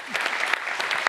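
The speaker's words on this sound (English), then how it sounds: "Let's give our panelists a round of applause." An audience applauds panelists at a cybersecurity speaker series, a brief burst of scattered clapping from the crowd lasting about a second.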